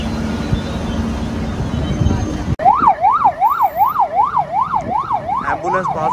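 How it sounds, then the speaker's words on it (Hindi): An ambulance siren wails in a steady rising and falling pattern as it passes on the road, starting abruptly and staying loud and close over traffic noise. "एम्बुलेंस पास हो रही है जी।"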